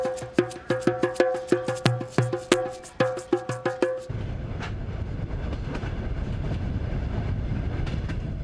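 A Trans-Siberian Railroad train on the rails: rhythmic clickety-clack of wheels over rail joints with metallic tones, then a steady loud rumbling roar of the moving carriage.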